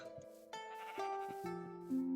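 Sheep in a survival video game give several quavering bleats, one after another, quiet and close, with no talk over them.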